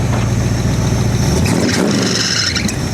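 A loud, close Chevy V8 in a casket car build runs under a pull throttle, its low rumble thinning partway through as a high squeal rises from a loose belt.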